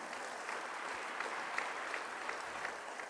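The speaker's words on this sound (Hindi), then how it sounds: "तालियों के प्रणाम से आप माननीय प्रधानमंत्री जी का अभिवादन करें।" Audience applause greeting India's Prime Minister at an education conference in Varanasi, a steady, dense wash of many hands clapping at moderate distance throughout, with no voices over it.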